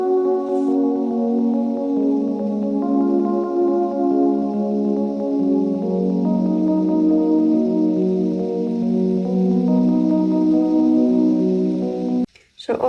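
A synth line driven by an arpeggiator MIDI effect in Logic Pro on iPad plays quick stepping sustained notes in a continuous pattern, cutting off abruptly near the end.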